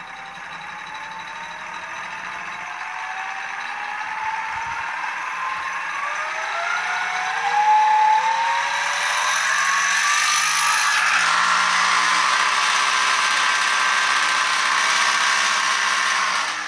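A brushless electric motor drives an e-CVT3K continuously variable transmission running in one direction, giving a steady whirring drone with rising tonal whines as speed climbs, loud and close throughout.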